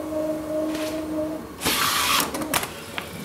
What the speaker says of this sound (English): we'll have a look when the print actually comes out of the printer